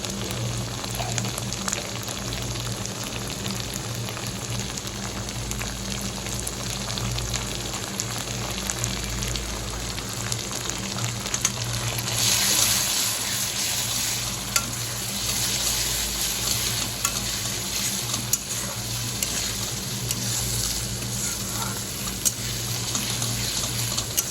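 A spice paste with chili powder and salt fries for fish curry, a continuous soft sizzling hiss over a low steady hum, unchanging throughout with a brief brighter surge midway.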